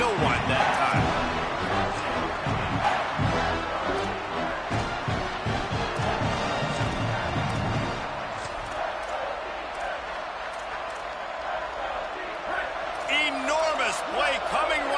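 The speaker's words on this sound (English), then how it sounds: "this crowd is bringing down the house" A stadium crowd in a football video game roars in a dense, steady wall of noise, loud and continuous, with commentary voices talking over it.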